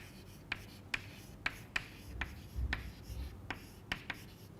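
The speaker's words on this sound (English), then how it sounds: "So, I will write it here." Pen or chalk strokes on a board during a semiconductor physics lecture, a run of about nine crisp, evenly spaced taps and scratches close by over a quiet room hum.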